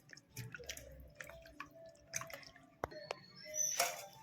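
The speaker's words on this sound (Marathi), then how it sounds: "आता आपण त्यांना 2 थंड पाण्याने दोनदा धुवून घेऊ। थंड पाण्याने धुवून घेते।" Soaked dried bombil fish being rinsed in cold water, with soft scattered drips, splashes and squishy handling noises, close and fairly quiet.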